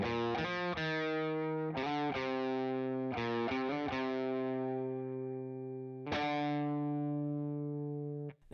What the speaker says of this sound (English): The riff that leads us into the pre-chorus will sound like this.